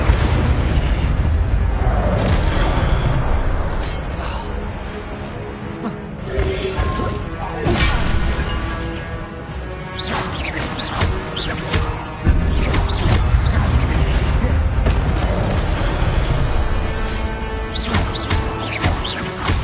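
Incendio fire spells and combat in Hogwarts Legacy, a long stretch of loud repeated booming blasts, crashes and bursting impacts, near and dense, with brief quieter gaps between volleys.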